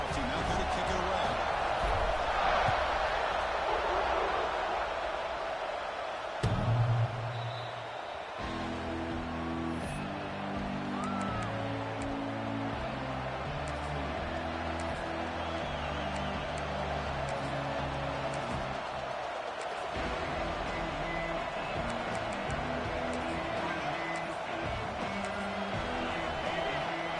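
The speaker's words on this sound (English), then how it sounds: "It's early, but this crowd is fired up. Listen to this noise here." Stadium crowd at a college football game between Georgia and Miami, a steady roar of cheering noise after a touchdown and kickoff, continuous and dense with some musical tones underneath, no distinct talk.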